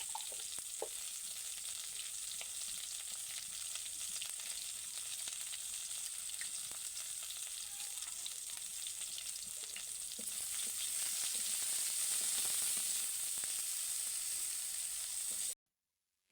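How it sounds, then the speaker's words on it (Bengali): Eggplant slices frying in a pan in a home kitchen, a steady, fairly faint sizzle that holds evenly for about fifteen seconds, swells slightly near the end, then cuts off abruptly. "তো দেখো বেগুনগুলো ভেজে নিই"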